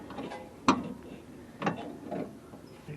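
A wrench works the trailing arm bushing bolt on a 2012 Mazda 3 sedan, giving two sharp metallic clicks about a second apart, close and moderately loud, followed by a softer rattle.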